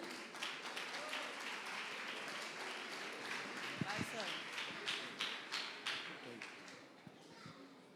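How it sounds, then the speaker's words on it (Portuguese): A church congregation applauds during a Portuguese-language service, giving a sustained patter of clapping with scattered sharper claps and thumps, while a voice talks over it. "Ainda bem que essa salva de palmas foi para mim."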